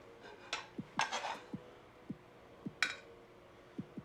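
A pan being handled while caramelized onions, peppers and broccoli are served out of it, giving several sharp metallic clinks and scrapes among fainter low knocks spread over a few seconds, fairly quiet, with no speech.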